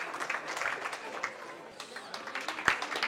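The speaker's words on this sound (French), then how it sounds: "On l'applaudit bien fort, s'il vous plaît" Weigh-in crowd applauding Argentine kickboxer Emmanuel Ramponi, a steady patter of clapping running through the whole stretch with a few sharper claps standing out.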